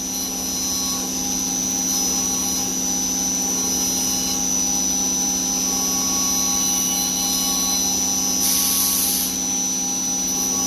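A dagger blade is ground on a grinder, a steady, loud high whine with a constant motor hum and a brief brighter rasp near the end, no talk.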